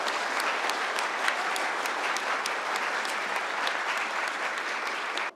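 An audience gives sustained, dense applause at a reconstruction launch ceremony for the Geumgang village complex in Jung-dong, Bucheon, clapping steadily throughout before stopping abruptly.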